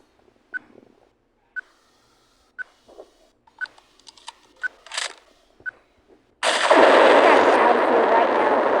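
A gun fires at a tree in the video game Firework Play. Several sharp, evenly spaced shots ring out against near silence, followed by a sudden loud, sustained burst of noise.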